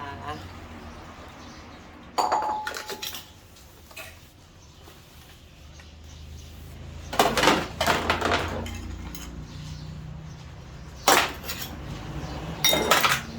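Dishes and cutlery clatter in intermittent bursts of clinking and scraping, loud and close, while washing up after a meal of dok sang soup, with quieter gaps between bursts and someone talking at times.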